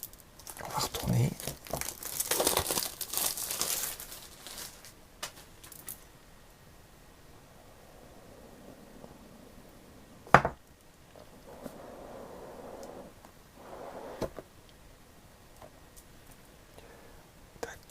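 A Realme GT 2 Pro phone box is unboxed, with loud close paper crinkling and tearing at first, then a sharp knock and softer rustles, while a person speaks quietly throughout.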